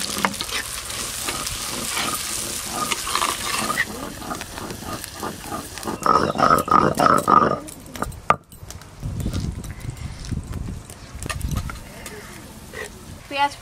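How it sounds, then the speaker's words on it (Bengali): Chopped onions go into hot oil in a kadai on a clay stove and sizzle loudly. Stirring scrapes follow, and a person talks over parts of the cooking. "কড়াতে আরেকটু তেল দিয়ে প্রথমে পেঁয়াজ কুচি দেব।"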